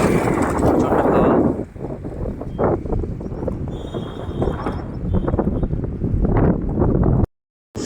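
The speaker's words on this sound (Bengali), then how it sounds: "প্রচণ্ড হাওয়া।" Strong wind buffeting the microphone beside the sea, loud roaring gusts that ease briefly and then surge again, with the sound cutting out at the end.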